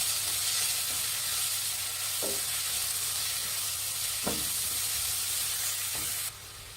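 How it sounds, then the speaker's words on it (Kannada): Finely chopped onions fry in hot oil in a pan for veg momos, giving a constant close sizzle and hiss. A spoon stirs now and then, making a few soft scraping clicks. "ಈರುಳ್ಳಿ ಫ್ರೈ ಮಾಡಿ."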